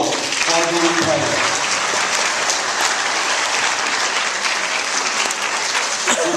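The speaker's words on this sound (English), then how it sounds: "please give those girls a round of applause for doing great." An audience at a meeting applauds a group of girl players, a dense, steady wash of clapping that stays loud and close from start to finish with a brief voice murmuring at the very start.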